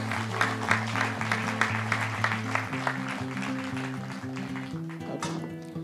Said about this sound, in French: Vous voyez, vous pouvez l'applaudir.